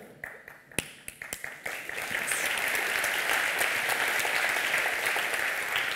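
Scattered claps start out a few at a time, then swell after a couple of seconds into full, sustained applause from a conference audience, fairly close and filling the room.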